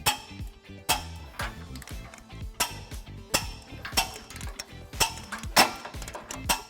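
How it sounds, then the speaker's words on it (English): A ratchet fitted with a 19mm socket tightens trailer hitch bolts on a 2006 Ford Crown Victoria, giving a run of sharp, rhythmic clicks in quick bursts against a faint tonal background. "We're going to go ahead and tighten and torque all of our bolts according to the manufacturer specifications. And we are going to use a 19mm socket."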